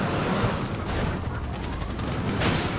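Dense, continuous gunfire rattles in a Grand Theft Auto V police chase near a pier, a loud unbroken barrage with sharp cracks throughout, no voices.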